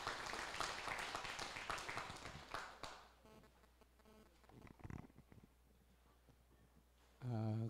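Audience applause at a closing ceremony, a soft and fairly distant clapping that fills about three seconds and then fades into quiet room sound, with a few scattered taps and a brief tone at the end.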